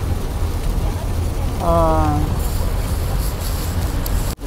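Rain pours steadily on a long bridge drive in Yamaguchi, a dense wash of noise under a moving car, with a brief tonal chirp partway through and a short exclamation from a voice.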